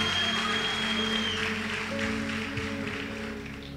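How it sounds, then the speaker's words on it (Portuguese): A congregation at an evening church service keeps up sustained applause, a broad even patter of many hands over soft sustained organ tones, gradually easing off toward the end. "Por favor, melhore seu aplauso a Jesus."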